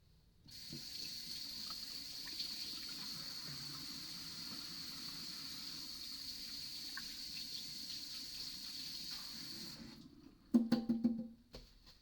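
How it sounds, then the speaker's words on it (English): Water runs steadily into a mead-making vessel for about ten seconds, an even faint splashing with a constant high hiss. Then it stops, and a few brief gurgling glugs follow. "Let's add the water."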